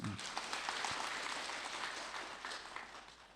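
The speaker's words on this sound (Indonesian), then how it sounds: "Tepuk tangan dong." A crowd claps in a steady burst of applause that gradually fades over a few seconds, with no voices over it.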